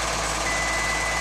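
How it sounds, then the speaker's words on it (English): A 2011 Toyota Venza sounds a long, unbroken warning beep with the keys left inside, a steady tone holding for the whole moment at close range. "that long extended beep means that there's something wrong. Either it's the door ajar or the keys are in it."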